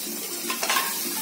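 Onions dropped into hot butter in a kadai give a brief, close hiss that swells into a sizzle with a faint scrape of stirring.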